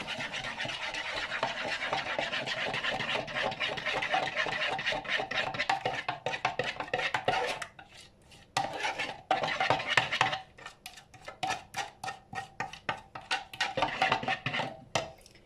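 Ingredients stirred in a bowl, a continuous rapid scraping and clinking of a utensil that pauses briefly midway, then resumes in quick rhythmic strokes, close and moderately loud.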